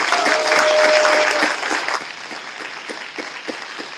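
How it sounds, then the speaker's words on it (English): Audience at an awards reception giving a round of applause, a loud full burst of clapping that thins out after a couple of seconds into scattered individual claps. "So big round of applause"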